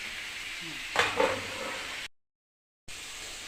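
Potatoes and tomato sautéing in a pan give off a steady sizzle with a brief burst of stirring, then the sound cuts out and resumes.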